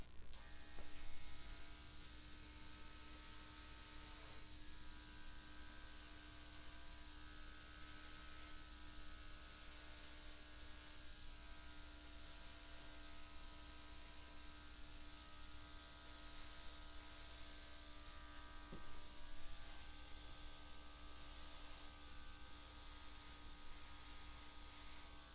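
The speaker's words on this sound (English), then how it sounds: "let's bring out the airbrush and see if it's going to do anything" A cordless airbrush sprays acrylic paint for fluid art, giving a constant hissing, static-like stream of air with a faint motor hum beneath, close and unbroken throughout.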